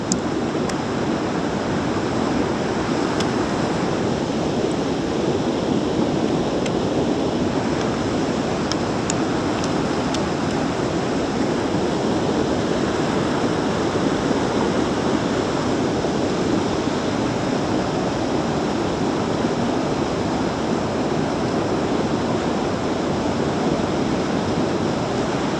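A waterfall rushing close by on a walk, a loud, constant broadband roar of falling water with no breaks.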